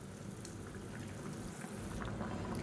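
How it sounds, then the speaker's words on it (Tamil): Water boiling in a pot on the stove after rice has been added, a steady close bubbling and hiss that holds for a few seconds with no voices. "இப்போ பாருங்கள் நல்லா கொதிக்க ஆரம்பிச்சிருச்சு தண்ணி"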